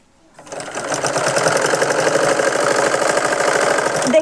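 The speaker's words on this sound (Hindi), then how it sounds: "तो देखिए अभी यहाँ पे इस तरह से हम सिलाई लगाएंगे आगे तक।" Sewing machine stitching a blouse seam, starting up and then running in a fast, even, rhythmic mechanical chatter close to the listener, with no talk.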